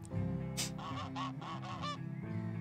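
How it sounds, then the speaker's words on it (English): Goose honking in the Let's Build A Zoo video game: a string of five or six loud, nasal honks in quick succession over a steady game music bed, no talking. "the new goose is coming in"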